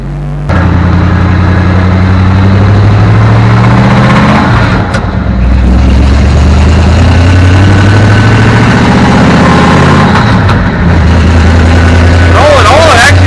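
Inside the cab of a 1964 Ford F350 dump truck, the loud engine drones and rumbles steadily at close range, with someone speaking over the noise.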